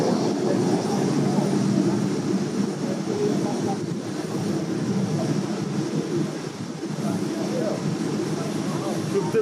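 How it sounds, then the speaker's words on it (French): Steady broadband rumble of an airplane cabin in flight, a constant loud drone with low engine roar filling the whole stretch and no clear breaks. "Tu peux peut-être prendre un plan de l'avion, mon cher Rust"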